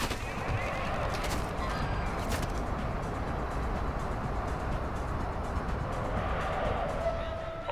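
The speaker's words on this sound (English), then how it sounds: "You are taking effective fire." Gunfire in Call of Duty DMZ, rapid distant shots and bursts over a dense rumbling battlefield background, with faint game radio chatter.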